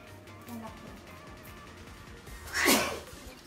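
A single loud sneeze bursts out close by, a sharp rising blast that tails off quickly, set against a steady indoor background of household noise and low talk.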